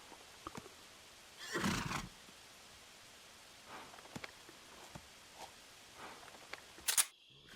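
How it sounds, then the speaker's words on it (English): Horse neighing in the stealth game Metal Gear Solid 3, a single loud whinny burst near the start followed by softer scattered snorts and clicks, with a sharp mechanical snap just before the end. "Listen some more horse noises."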